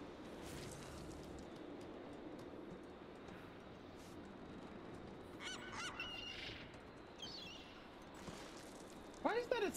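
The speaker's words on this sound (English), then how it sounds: "I think that was a gull, at least." A seagull calls in the video game Rise of the Tomb Raider, several short cries over a low game ambience, the loudest near the end.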